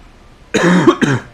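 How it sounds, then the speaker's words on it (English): A single close, loud cough in two quick bursts, heard alone against near silence. "You're going to have to sit and listen to me fucking jump scare you with a cough."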